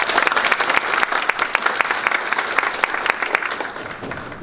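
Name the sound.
audience applauding at forum guest introduction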